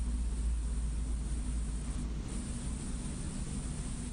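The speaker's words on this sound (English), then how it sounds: "Yeah, that sounds like a car driving past." Outside, a car drives past as a continuous low rumble and broadband hiss, steady and moderately loud throughout.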